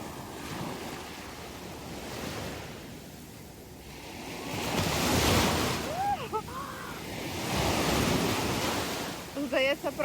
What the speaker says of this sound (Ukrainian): Ось сьогодні моречка хвилюється.